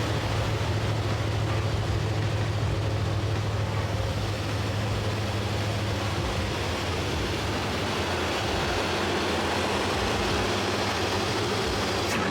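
An old Corvette engine, started after sitting 20 years with its carburetor being tuned, runs in a steady, loud, rough drone with a low rumbling undertone throughout.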